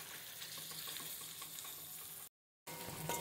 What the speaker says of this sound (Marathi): मिरची आणि लसूण टाकून त्याचं तेलामध्ये आपण चमच्याने परतून घेऊयात